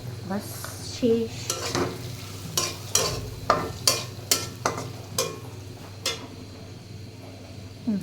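Lentils fry in a pan over a soft sizzle while a utensil stirs them, scraping and clinking in a rhythmic series of sharp taps that thin out toward the end.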